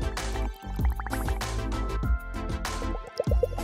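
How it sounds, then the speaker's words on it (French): Air is blown through a straw into melted candy, making wet, irregular bubbling and dripping plops with brief pauses, close and fairly soft. "Et maintenant, je peux faire des bulles."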